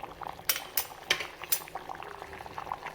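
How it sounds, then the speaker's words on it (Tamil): Idli sambar bubbles on a stove in a steady, soft simmer, punctuated by a few sharp metallic clinks of a utensil against the pot. "ஒரு அஞ்சு நிமிஷம் நல்லா அடுப்பில் இருக்கட்டும் நல்லா வேகட்டும்"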